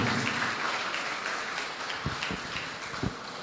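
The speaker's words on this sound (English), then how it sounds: "Please give him a huge round of applause as he makes his way up." Audience applause at a live book launch event, a steady broad wash of clapping throughout with a few sharper low thumps near the end.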